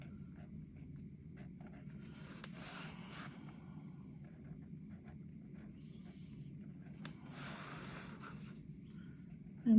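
A pen scratches softly across a paper mandala in short, quiet strokes and bursts, close and faint over a low steady hum.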